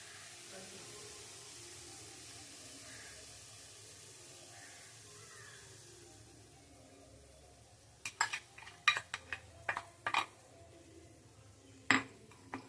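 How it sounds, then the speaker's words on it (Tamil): Semolina is stirred and roasted in oil and ghee, at first as a soft, faint hiss, then with a run of sharp clinks and scrapes from a metal spoon against the pan. "இப்போ நம்ம ரவையை நல்லா வறுத்துக்கலாம்."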